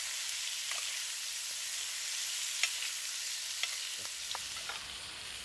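A rib-eye steak with herbs added sizzles steadily in a pan, a soft continuous fry with a few faint clicks and pops scattered through, no voices.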